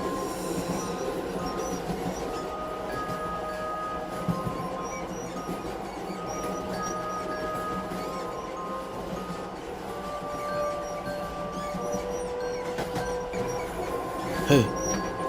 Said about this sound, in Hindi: ट्रेन चलने लगती है।